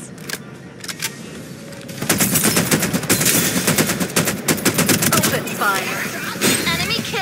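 Gunfire in the video game Farlight 84 builds from a few scattered shots into dense, rapid automatic bursts with rattling clicks, loud and close, while game voices speak now and then.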